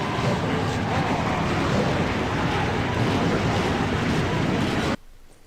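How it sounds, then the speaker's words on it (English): Field of NASCAR stock cars firing up at Bristol Motor Speedway in the NASCAR Racing 2003 video game, a dense, loud, steady engine roar that fills the clip before cutting off abruptly near the end. "The cars have fired up here"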